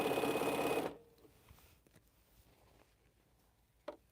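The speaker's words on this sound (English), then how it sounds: "Sewing these rows together." A sewing machine stitching quilt rows together runs loud and steady for under a second, then stops, leaving quiet room noise and a faint click near the end.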